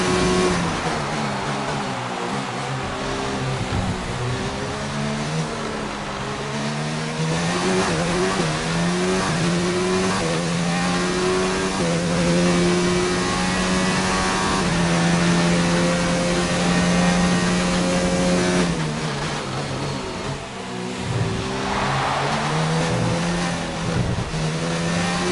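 F1 race car engine from the game F1 2019, worn and losing power, revving loudly and steadily with rising and falling pitch through gear changes, continuous and close for the whole stretch, no talking.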